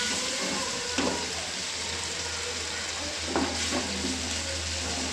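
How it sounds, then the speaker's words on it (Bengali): Dried fish (shutki) frying with onions gives a continuous moderate sizzle, with a couple of brief stirring scrapes breaking through. "পেঁয়াজ সাথে ছুটকিটা কিছুক্ষণ ভাজবো"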